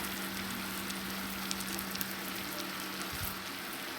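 Spices with chopped capsicum and green chilli fry in a pan while being stirred, making a dense, even sizzle throughout with a low hum beneath and faint scrapes near the end.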